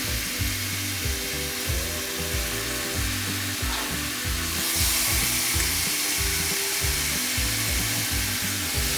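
Beef frying in a pan sends up a loud, continuous hissing sizzle over a steady rhythmic low hum throughout.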